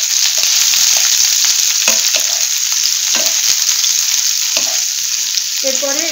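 Sliced onion frying in a pan with cumin seeds, a loud constant sizzle broken by spatula stirring strokes.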